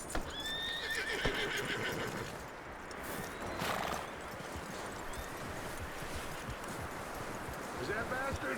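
A horse neighs loudly near the start of the clip in Red Dead Redemption 2. Hoof clip-clops and rustling follow under a steady background wash, with a voice speaking over them.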